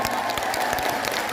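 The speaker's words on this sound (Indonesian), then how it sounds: "tepuk tangan untuk sahabat Anja" A crowd at a pengajian religious gathering in Hong Kong with KH Anwar Sahid claps in a loud, dense burst of applause that stays close and even.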